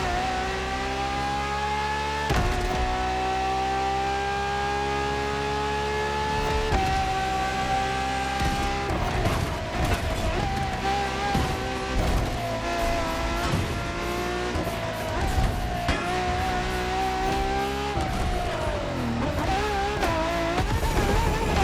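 A LaFerrari hybrid supercar in the racing game The Crew Motorfest gives a loud, continuous engine roar, rising through the revs and dropping sharply on gear changes, with occasional tire squeal and skidding and no talking.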